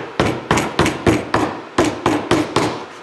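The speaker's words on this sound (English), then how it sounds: "I'm going to use a hammer and drive these staples in flat" A hammer drives staples flat into leather, landing nine sharp, evenly spaced blows in a steady rhythm, close and loud with no talking.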